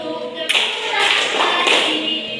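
A classroom of children claps hands in a dense, overlapping flurry that starts abruptly and keeps going as part of an open-and-close clapping game, close and fairly loud.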